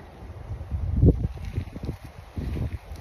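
Gusty wind buffets the microphone in low rumbling bursts, with a stronger gust about a second in and softer surges after.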